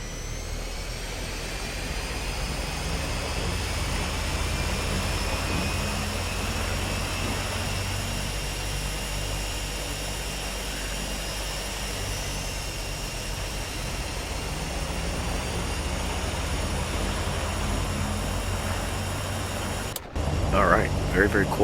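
Real Air Duke Turbine aircraft engine running in the FSX flight simulator, a loud constant turbine roar with high whining tones and low rumble, steady for most of the stretch with a brief click near the end.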